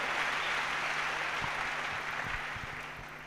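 A church congregation applauding together, a steady wash of clapping that fades slightly toward the end, with a few low thumps beneath it.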